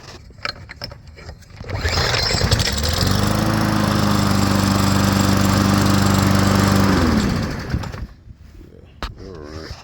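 A lawn mower engine, restarted on fresh gas after an oil overfill, runs loud and steady for a few seconds close by, then cuts out, with clattering handling noises before and after.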